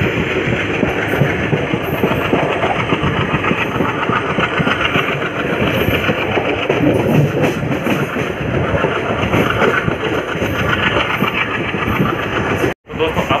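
A WDM 3D diesel locomotive hauls the Prayag Bareilly Express, its engine a loud, steady, continuous rumble mixed with the clatter of rail wheels, with a brief dropout near the end.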